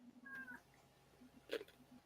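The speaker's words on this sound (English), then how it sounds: "All I can hear is cats." A cat gives a faint, thin meow, then a brief sharper cry follows, both low in level against a quiet background with a soft hum and no talking.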